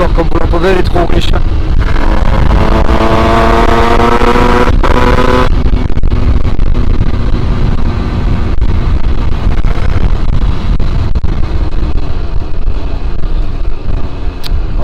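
An 86cc aluminium Top kit moped engine, still running in and set too rich, revs loudly and steadily throughout, its harmonic whine climbing and then dropping as it backs off, with wind rush over the microphone and a voice talking beneath.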